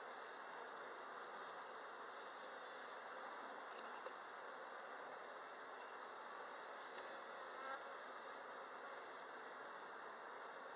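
Honey bees drone in a dense, continuous buzz around an open hive during a spring inspection, a steady close swarm hum with no voices.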